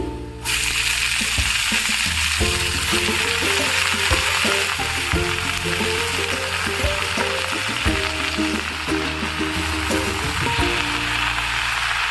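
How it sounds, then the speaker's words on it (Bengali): Greens frying in hot mustard oil in a kadai give a loud, continuous sizzle close up, with irregular stirring scrapes and spatter throughout. "কেৰাহীটো গৰম হৈছে এতিয়া মিঠাতেল দিম বহাই দিলোঁ অকণমান ভাজি ল'ম তাৰপিছতে বহাই দিম এতিয়া বহাই দিম শাকখিনি"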